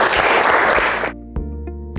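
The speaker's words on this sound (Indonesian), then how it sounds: "Kita kasih aplaus" Applause during a teaching session: a loud burst of clapping lasts about a second, then cuts off abruptly, leaving a faint electronic tone and a couple of soft knocks.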